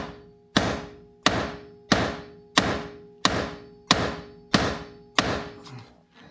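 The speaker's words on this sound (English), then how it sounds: "we're going to give it a tap at the same time as pulling and try and frighten it off" A socket is tapped against a tight steering wheel nut on a Nissan Note to shock it loose, giving eight evenly spaced, sharp metallic knocks about two-thirds of a second apart, each ringing briefly before the next.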